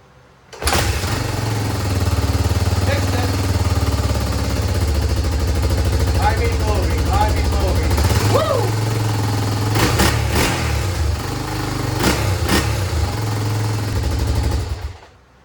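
An ATC350X three-wheeler engine runs loudly up close, a steady rough idle that lifts into a few brief revs before cutting off near the end.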